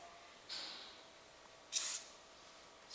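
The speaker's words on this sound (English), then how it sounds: "I spray it all on their coat, moving their coat around, getting it to the base." A spray bottle of grooming product misted onto a Papillon dog's coat, two short hissing sprays, the second louder and close, against quiet room noise.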